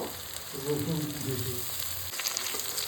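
Desi tomato with salt and garlic frying in oil in a pan makes a close, steady sizzle, with a faint low voice murmuring beneath it for a moment.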